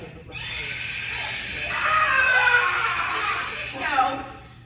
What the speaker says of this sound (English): I think I screamed